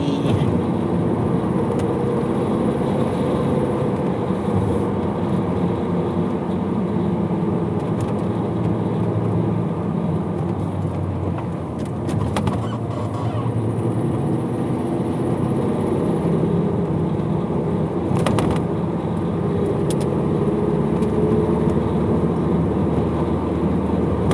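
A Porsche car driving, a steady, loud low engine and road rumble heard from inside, continuous throughout with a couple of brief bumps.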